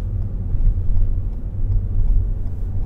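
A car engine revving hard to about 5,000 rpm in first gear during an advanced mock driving test, a loud, steady low rumble that holds for around three seconds without easing off.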